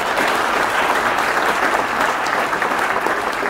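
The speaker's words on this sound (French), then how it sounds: "Applaudissements." Audience at an employee speech and advice event giving loud, sustained applause, a thick uniform roar of clapping that holds steady throughout with no voices.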